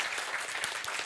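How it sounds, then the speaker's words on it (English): Applause from a room of attendees at a panel on steel decarbonization standards: a brief, busy spatter of claps with a few sharper individual hits standing out, no voices over it. "A big applause."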